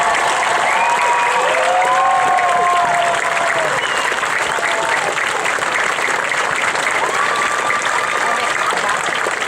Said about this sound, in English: Would you please stand and receive your applause?